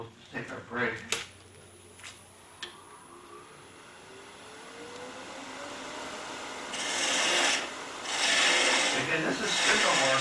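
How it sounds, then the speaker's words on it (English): A freshly sharpened turning tool cuts spindle work on a wood lathe, starting with a few knocks and scrapes, then a rising hiss of cutting with strong rasping passes near the end, under speech. "So we just sharpened this tool up and we'll see how it cuts now."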